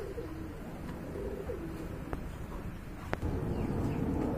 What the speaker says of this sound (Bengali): এখানে কিন্তু একটা বোল্ডার শোকিং অ্যান্ডালুজিয়ান কালারের নর কবুতর দেখতে পাচ্ছেন